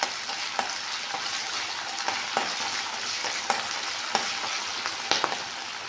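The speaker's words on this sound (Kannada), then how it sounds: "ಇವಾಗ ಕರಿಬೇವಿನ ಸೊಪ್ಪು ಹಾಕೊಳ್ಳೋಣ ಸ್ವಲ್ಪ" Fresh curry leaves fry in hot oil in a pan for uppittu, a steady loud sizzle with occasional sharp pops and stirring clicks, close up and without any voice.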